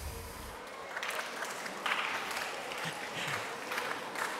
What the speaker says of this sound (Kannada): ಪ್ರಾಯಶಃ ಗಂಡ್ಮಕ್ಳೇ ಚಪ್ಪಾಳೆ ಹಾಕ್ತಾ ಇರೋದು ಅನ್ಸುತ್ತೆ ಇಲ್ವಾ?